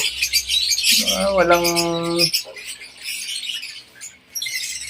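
Pet birds kept as breeding stock give a short, loud squawk followed by sharp, scattered chirps nearby.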